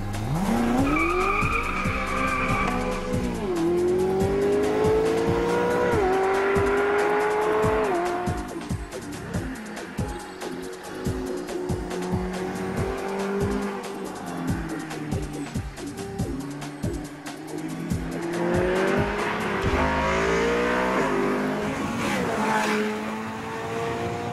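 Ferrari California V8 driven hard on a test drive, engine note rising and falling through gears in sweeping pulls, with throttle blips and popping on overrun, loud and close, no talk.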